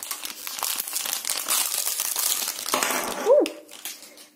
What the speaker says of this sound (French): Ensuite, nous allons ouvrir la petite seringue.